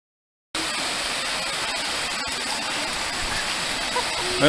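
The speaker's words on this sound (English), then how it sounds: "we are at the top of the waterfall here" A waterfall on a Stone Mountain, North Carolina loop trail rushes with a loud, steady broadband roar that starts abruptly and holds evenly throughout, with a voice faintly beneath it.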